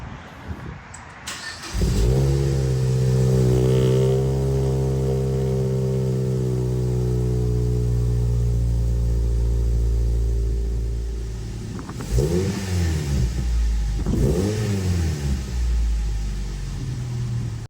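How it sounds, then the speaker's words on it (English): A Mazda NC Miata with a Racing Beat performance header cold-starts: a brief cranking, then a loud, steady high idle drone that eases slightly, followed by two short throttle blips near the end. "let's do the cold start, see if it actually works, listen to the cold start"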